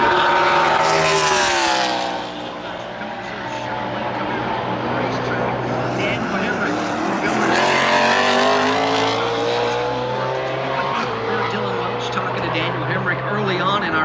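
NASCAR Cup Series race car roaring through a qualifying lap at ISM Raceway, a loud sustained engine drone rising and falling in pitch as it passes, with a commentator talking over it.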